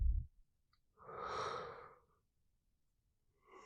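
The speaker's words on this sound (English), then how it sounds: "That was a yawn." A human yawn, one long breathy exhalation close to the microphone in a quiet room, with a shorter breath starting at the end.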